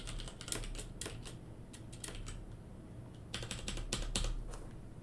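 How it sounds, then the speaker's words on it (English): A password is typed on a computer keyboard in quick bursts of crisp, close keystrokes separated by short pauses, with a faint hum behind. "Yes, I typed in asterisk for my password."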